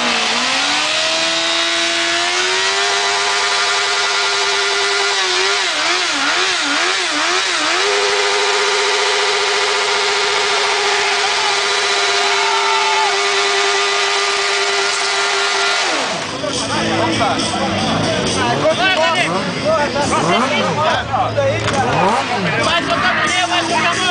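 A Honda CBR 1000 sport motorcycle engine screams at high, sustained revs during a burnout, pitch wavering up and down, then turns rougher and louder amid crowd noise and voices.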